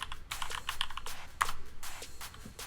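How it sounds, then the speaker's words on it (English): Keys clack in quick irregular bursts on a computer keyboard while the ifconfig command is entered on a Linux machine, close and clear with no voices. "because this is Linux, we're going to type in ifconfig."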